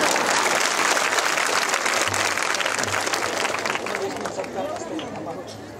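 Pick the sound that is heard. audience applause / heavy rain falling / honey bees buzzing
audience applause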